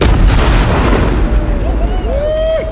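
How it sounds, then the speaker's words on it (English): A powerful blast from a large homemade explosive charge, a loud, sustained roar filling the whole clip with heavy low rumble, followed by a fading rising whistle-like tone toward the end. "the biggest explosion I've ever set off in the history of my channel"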